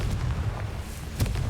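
Booming blasts from the Confringo spell in the video game Hogwarts Legacy, a steady low rumble with a sharper explosive hit near the end, no voices.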